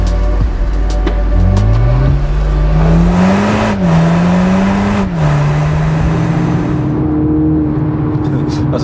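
From inside a Toyota GR Supra 2.0 four-cylinder with 258 PS, the engine pulls hard under acceleration, its rising drone climbing and settling through gear changes, steady and close, with someone talking over it.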